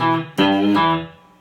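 Short guitar riff with a slight string bend on the low E, a few quick picked notes ringing out and decaying over about a second, moderately loud with a light distorted edge and no speech.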